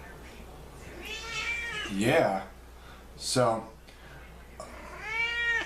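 A cat meows several times at close range, drawn-out and plaintive, with a person speaking briefly in between.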